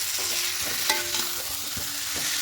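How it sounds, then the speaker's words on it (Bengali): Potatoes with spices are stirred and fried in a pan, a dense close sizzle with scraping strokes of a spoon against the metal, steady and loud, and no one speaking. "সব কিছু এবার একসঙ্গে খুব ভালো করে মিশিয়ে নেব মিশিয়ে নিয়ে আর একটু কষে নেব ভালো করে"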